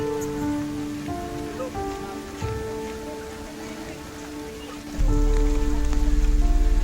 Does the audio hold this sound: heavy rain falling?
yes